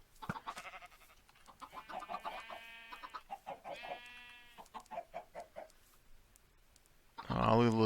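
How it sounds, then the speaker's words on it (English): Small chickens in the Minecraft video game cluck in a run of short, rhythmic, close calls, followed by a sudden loud burst of a different sound at the end. "All the little chickens."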